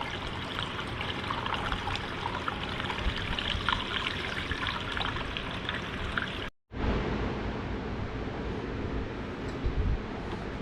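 Dex-Cool coolant pours steadily into a squarebody truck's engine, a continuous trickling gurgle that cuts out briefly, then resumes.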